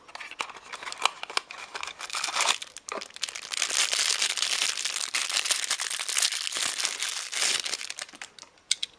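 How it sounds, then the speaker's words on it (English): Loose plastic packaging from a toy car unboxing crinkles and crunches near the microphone, a dense, continuous rustle with sharp crackling bursts throughout. "throwing all my plastic rubbish there, that can just go on the floor"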